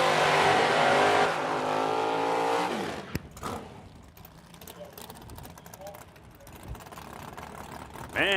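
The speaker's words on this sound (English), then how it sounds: "Man, is that little shorty dragster ever make some noise?" A small, short dragster blasts down a drag strip at an Edmonton drag racing meet, loud engine roar for the first three seconds then a sharp crack and fading rumble with crowd and announcer voices behind.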